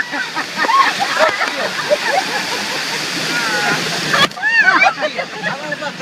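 Water cascades and splashes over riders on Le Rapide, a river rapids ride at Rainbow Magicland, an Italian amusement park: a loud rushing wash with sloshing bursts while people shout and laugh over it.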